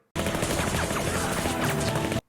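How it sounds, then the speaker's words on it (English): Rapid automatic gunfire from a Doctor Who episode, a dense burst of shots lasting about two seconds, loud and continuous, starting and stopping abruptly. "That better not be a gunshot."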